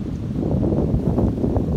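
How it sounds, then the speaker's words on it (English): A gust of wind buffets an outdoor microphone beside a camp stove, a steady broadband rush that stays loud and continuous for the whole stretch. "Here comes another gust."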